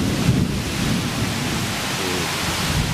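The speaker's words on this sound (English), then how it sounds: "Ooh, thunder." Thunder rumbling over heavy rain in the Taman Negara rainforest at night, a deep low roll beneath a dense, constant hiss of rainfall, loud and enveloping with no voices.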